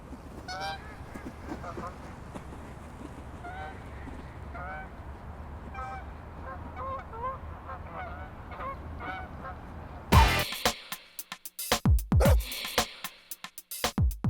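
Ducks honk repeatedly at a distance over a low outdoor hum, then louder, closer honks and calls break out toward the end.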